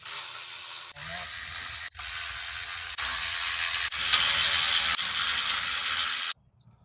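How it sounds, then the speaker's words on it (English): A hand ratchet works on the cylinder head bolts of a 2007 Chevrolet Suburban, making a loud, close, continuous clicking whir broken by brief pauses between strokes and ending abruptly. "next we're gonna remove the cylinder head bolt"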